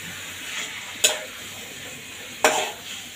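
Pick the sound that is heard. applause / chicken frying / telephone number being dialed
chicken frying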